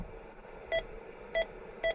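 A CRT 9900 radio emits three short electronic button beeps, clear and evenly spaced over a steady low background hiss, with no talking.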